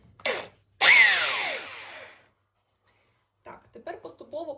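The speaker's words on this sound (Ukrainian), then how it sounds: "Тому беремо міксер і перебиваємо" An electric hand mixer whirs into dough for a grated pie, one loud, rising motor whine lasting about a second before cutting out, followed by a few short clattery sounds.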